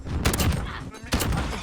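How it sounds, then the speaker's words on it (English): A shotgun in Modern Warfare 2019 blasting twice, about a second apart, each loud close boom trailing into a short rumble. "I'm gonna use a shotgun."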